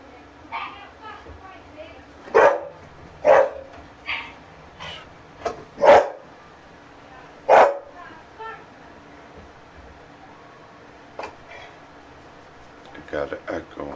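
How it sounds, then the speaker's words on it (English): A dog barking inside a garage, a handful of sharp separated barks with room echo, spaced irregularly, while a person talks throughout. "If I hear the dog bark, and I know it's echoing upstairs"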